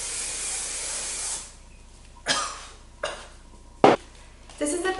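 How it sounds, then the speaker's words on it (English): Hairspray from an aerosol can gives a steady, close hiss for about a second and a half, then stops. A few short knocks and clatters follow on their own. "I feel like I need some hairspray here."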